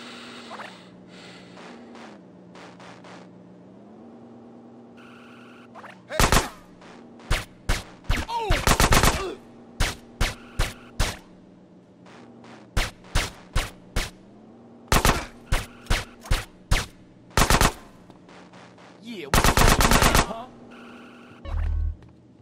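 Gunfire in GTA San Andreas Definitive Edition rings out as sharp single shots and quick bursts, loud and close, over a steady low game background hum with talk-like tones.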